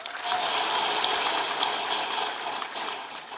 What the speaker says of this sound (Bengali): তাদের জন্য একটা জোরে হাততালি দিই